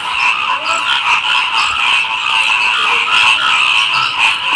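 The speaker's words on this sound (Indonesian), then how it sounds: "sang kodok-kodok tersebut selalu menyuarakan suara-suara yang indah dalam kehidupan" Frogs croak in a dense, continuous chorus, many voices overlapping steadily without pause at a fairly loud, near level.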